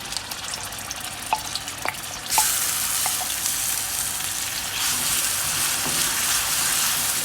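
Yam upperi ingredients frying in coconut oil in a pan, a steady broadband sizzle that jumps louder partway through as more goes in, with a few clinks of stirring, close and continuous.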